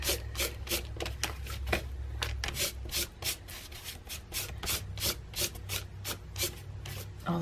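An ink pad is rubbed repeatedly across a small faux leather junk journal cover in quick, close, scratchy strokes. The strokes come in a steady irregular rhythm with no talk.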